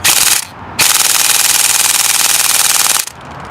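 A Tokyo Marui Next Gen Recoil Shock MK18 airsoft rifle fires on full auto in two loud, close bursts of rapid buzzing shots, a short one and then a long sustained one, ending abruptly.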